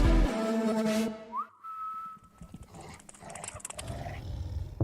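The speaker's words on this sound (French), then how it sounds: "Et le chien on l'entend courir, venir et grogner" A long eerie whistle that slides up and holds, followed by low rumbling growls and scuffling of a running dog approaching and snarling, used in a rap track.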